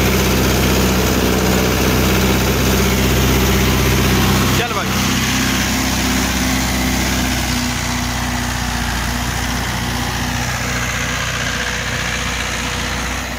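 A Mahindra 575 XP Plus tractor running an 8-foot Shaktiman rotavator through a field at about 2000 RPM, a steady loud engine drone with a brief dip partway through, continuing throughout.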